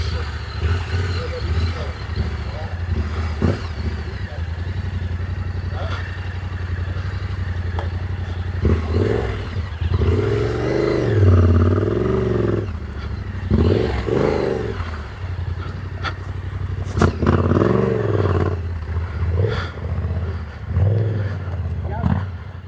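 A light Kawasaki Versys X300 motorcycle picks its way over rough desert ground in Morocco, its engine rumbling steadily with surges and clattering bumps, close and fairly loud, while voices talk over it.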